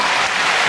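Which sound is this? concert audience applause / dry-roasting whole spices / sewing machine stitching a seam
concert audience applause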